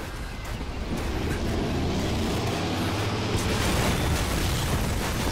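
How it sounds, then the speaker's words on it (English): Explosions in the Metal Gear Solid V: Phantom Pain video game roll out as a continuous heavy rumble with crackling debris, loud and dense for the whole stretch. "Snake, stop looking at explosions."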